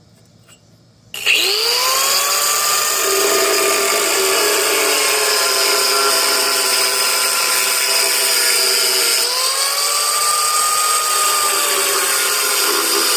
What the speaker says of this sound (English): You open this up with a slicer wheel.